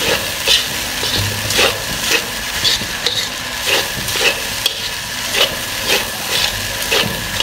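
Rice is stir-fried and tossed into masala for restaurant-style chicken fried rice, a continuous sizzle broken by rhythmic scraping strokes of a spatula about every half second, close and fairly loud with no talking.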